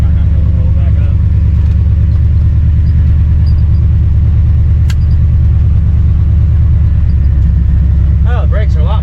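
Truck driving steadily down a road on a test drive, a continuous loud engine rumble and road drone heard from inside the cab, with a brief voice near the end.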